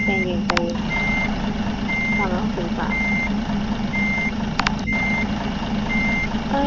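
Reversing beeps from a bus in the driving game Bus Simulator Ultimate, a steady string of evenly spaced electronic tones repeating over a constant low engine drone.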